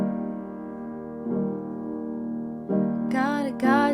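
Keyboard playing sustained chords from the first verse of a song, several held chords changing every second or so, with brighter higher notes entering near the end; clear and close with no talk.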